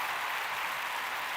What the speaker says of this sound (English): That one deserves a round of applause.